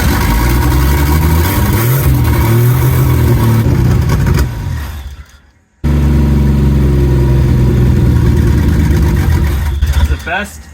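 A turbocharged Aces Killshot engine running on a rich idle, loud and close, with a rumbling low drone that fades out, drops to silence, then fires back up steadily; someone talks over it.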